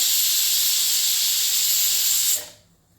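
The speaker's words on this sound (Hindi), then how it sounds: "ये देखिए, सीटी आ चुकी है।" A pressure cooker on a gas stove vents a loud, steady hiss of escaping steam that holds for over two seconds, then cuts off and fades quickly to quiet.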